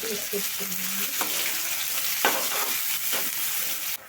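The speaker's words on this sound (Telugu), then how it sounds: "ఇప్పుడు వచ్చేసి ఆనియన్స్ వేసుకుంటున్నాను ఇలా కట్ చేసి పెట్టుకున్న బారుగా కట్ చేసి పెట్టుకున్న ఆనియన్స్ అదేవిధంగా చిల్లీస్ కూడా వేసుకుంటున్నాను" Long-cut onions and chillies fry in a hot pan for a potato curry, giving a steady, close sizzle with occasional stirring scrapes and clinks.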